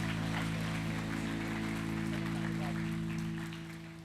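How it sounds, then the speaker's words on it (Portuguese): Church congregation applause at a youth worship event, a dense clapping wash over sustained organ or keyboard chords, fairly quiet and tapering off at the end. "Vamos aplaudir o Senhor?"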